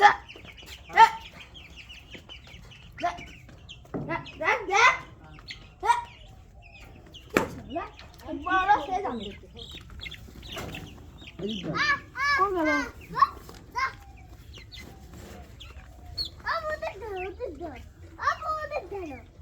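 Ducks being fed give repeated clucking calls close by, mixed with children's voices and adult talk, bursts of fowl sounds rising and falling throughout.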